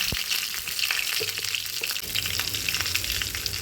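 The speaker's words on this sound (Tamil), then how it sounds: "ஒரு தாளிப்பு கரண்டியில் ஆயில் விட்டு கூடவே கடுகு, காஞ்ச மிளகாய், கருவேப்பிலை போட்டுக்கணும்." Mustard seeds, dried red chillies and curry leaves tempering in hot oil in a small ladle, a close, crackling sizzle with sharp pops over a steady frying hiss.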